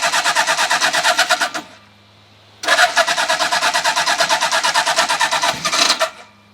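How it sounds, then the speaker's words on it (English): Motorcycle engine cranking on a cold startup with the choke on, a loud rapid rhythmic churning that runs for nearly two seconds, stops, then resumes for about three and a half seconds before settling. "This bike always is a little fussy on the cold startup."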